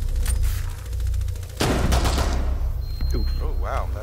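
Pistol shots fired from the hip ring out in Rainbow Six Siege amid a busy, loud mix of game noise, with sharp bursts and a player talking over the action.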